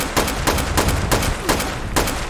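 Shotgun blasts in the video game Fallout 76 fire loud and close in a quick, fairly steady sequence, about eight shots in just over two seconds.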